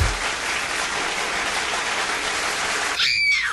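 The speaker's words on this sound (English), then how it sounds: "I got to clap for that, man." Applause for a live musical performance on a broadcast, a steady dense clapping wash filling nearly the whole stretch, ending with a brief whistle-like chirp near the close.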